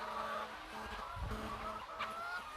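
Chickens cluck steadily on a poultry farm raising egg-laying birds, a continuous murmur of many hens close by, with scattered sharper calls over a noisy background.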